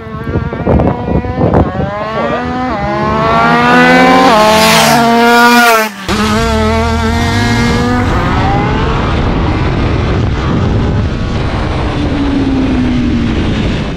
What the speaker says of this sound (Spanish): se va a picar Xavi con su moto contra la de Adi